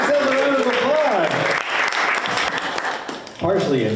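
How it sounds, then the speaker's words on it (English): Applause from participants at a community climate workshop on Lynn and Nahant beaches, a steady crowd clapping that runs under and between voices talking over it. "So give yourselves a round of applause."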